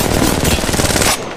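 Rapid automatic gunfire in Apex Legends Mobile, a tight burst of shots fired in quick succession, loud and close, cutting off abruptly at the end.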